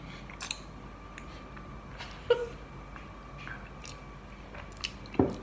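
A man tries fried insects for the first time, giving quiet, close, soft chewing and a couple of small crunchy bites over a low background hum, with no talk.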